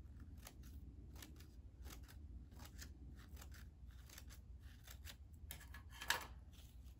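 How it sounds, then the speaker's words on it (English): Scissors cut crepe paper for a piñata craft: a quick series of crisp, close snips repeating at an even pace, with one louder snip near the end, quiet and with no talking. "You will receive some crepe paper that we are going to cut into like this."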